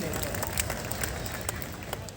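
A kavi sammelan audience at a Kajli Teej fair claps in a brief, scattered burst of applause, close and busy, with a voice talking over it.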